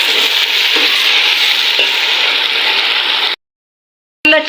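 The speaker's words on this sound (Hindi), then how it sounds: "चिकन को हम अच्छे से फ्राई करेंगे इसके अंदर।" Chicken frying in a pan gives a loud, steady sizzle that continues for about three seconds and then cuts to silence, followed by a brief clatter.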